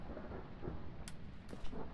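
Low, sustained thunder rumbles in the game Phasmophobia, steady and moderately loud, with a few faint knocks on top and no voices.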